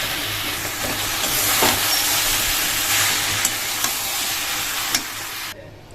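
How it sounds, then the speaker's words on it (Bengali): Shrimp, pointed gourd and potatoes sizzle loudly in hot spiced oil as they are stirred, a steady dense frying hiss with occasional clinks from the spoon, ending abruptly. "এখন হচ্ছে দিয়ে দেবো ভেজে রাখা চিংড়ি, পটল, আলু সব কিছু একসাথে দিয়ে আর কি"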